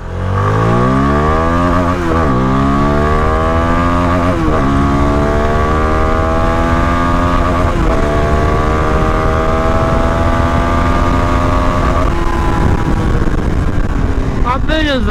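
A Kawasaki NK250 motorcycle accelerates hard up through its gears, the engine note climbing and dropping at each shift, loud and close on the road with wind noise.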